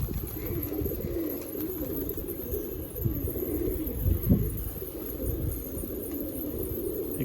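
Several pigeons in a loft coo in a low steady murmur, faint and continuous, with a few slightly louder soft calls midway and no voices.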